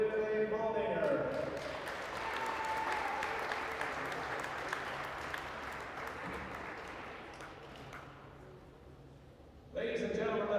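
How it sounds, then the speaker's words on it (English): Crowd at a Wahoo versus Plattsmouth high school basketball game applauds the 2026 Lady Warriors student athletes, a broad sustained wash of clapping and cheering in a gym that fades, with an announcer's voice at the start and end. "A nice round of applause."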